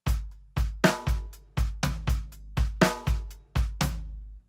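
Slow verse drum groove with a deep kick on every quarter note and sharper hand-played accents landing between the beats, steady and close with ringing low tails.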